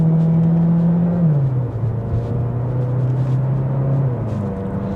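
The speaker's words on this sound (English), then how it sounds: "It's just kicked the engine in now." Petrol engine of a VW Golf 8.5 GTE hybrid, a 1.5-litre unit rated at 177 horsepower, cutting in while the car drives, giving a steady low hum and rumble with a shifting drone and no talk.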